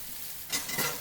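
Sliced steaks sizzle in a cast iron pot, a soft hiss that swells into a louder crackling burst halfway through, heard up close with no talk.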